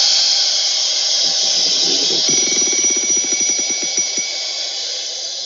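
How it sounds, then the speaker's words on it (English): A firefighter's SCBA breathing pack sounds its low air alarm: a sustained high-pitched whistle joined by a rapid rattling pulse that speeds up and then fades, with hissing air underneath. "Here's your low air alarm."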